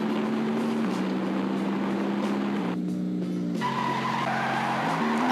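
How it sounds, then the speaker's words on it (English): In the Interstate 76 video game, a car engine drones at high revs as the car does a handbrake turn, with a sustained tire skid and pitch shifts through the slide. "Nice handbrake turn there"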